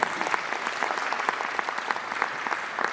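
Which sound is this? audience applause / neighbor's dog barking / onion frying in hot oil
audience applause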